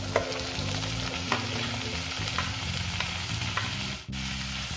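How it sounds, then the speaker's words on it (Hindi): Tomatoes frying in a pan for paneer mattar masala, a steady close sizzle with a spoon scraping and stirring at intervals, plus a brief drop in sound near the end before the sizzling resumes. "टमाटो को भल भाव में भाजी न।"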